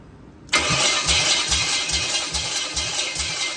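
A warm engine on a crate motor spins over with the fuel wire open, sharp onset followed by a steady, rhythmic cranking pulse of about seven even beats under a loud, continuous whirring hiss.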